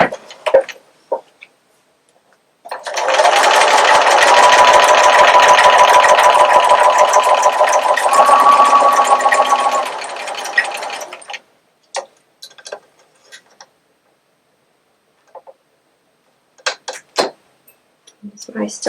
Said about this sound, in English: Sew down the first side,